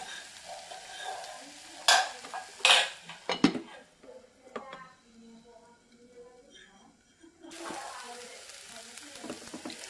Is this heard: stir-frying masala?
yes